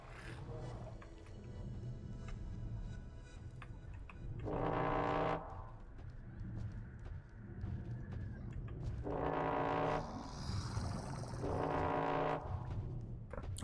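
Several loud, brassy horn blasts in the video game The Eternal Cylinder, each lasting about a second, sound in bursts over a steady electronic background with synthetic tones.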